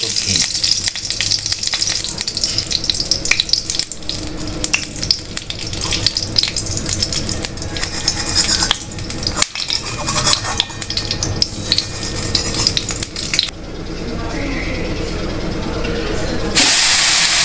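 Grated carrots fry and get stirred in ghee in a hot wok, a steady close sizzle and hiss with scraping stir noises, continuing throughout under some background voice.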